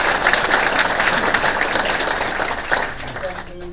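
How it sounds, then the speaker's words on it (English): A crowd at a public event in Salamanca applauds Senator Kathy Young, dense sustained clapping with a faint voice beneath, easing off toward the end. "Senator Kathy Young, let's give her a round of applause."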